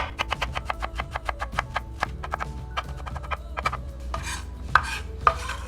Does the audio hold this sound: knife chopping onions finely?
yes